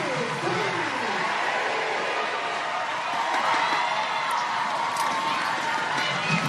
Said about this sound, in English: This crowd, electric.